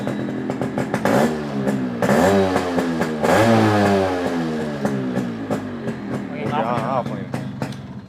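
A restored Yamaha RX135 two-stroke motorcycle engine revved hard several times, loud and close, its pitch climbing and dropping with each blip of the throttle before easing back down.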